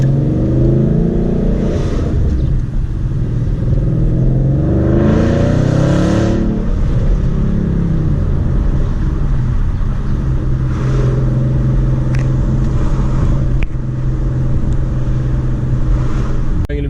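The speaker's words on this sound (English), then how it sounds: "Teaching you guys how to launch a manual car" A manual car engine revs hard during a launch, the loud, close drone rising and falling in pitch through gear changes with steady road and engine roar throughout.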